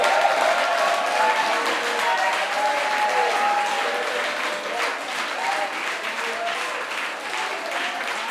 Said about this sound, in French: Est-ce qu'on peut offrir des acclamations au Seigneur Jésus-Christ?